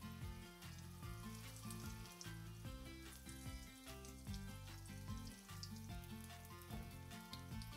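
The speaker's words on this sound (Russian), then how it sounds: "Опускаем в масло. Обжариваем с обеих сторон до румяного вида." Breaded eggplant rings fry in hot oil, a steady, close sizzle and crackle that runs throughout, laid under tonal background music.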